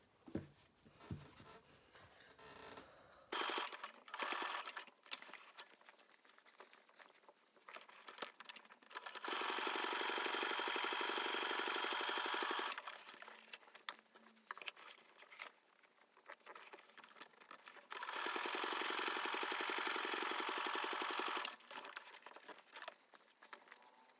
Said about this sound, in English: So I'll go to my sewing machine and do a row of zigzag stitches on these sides.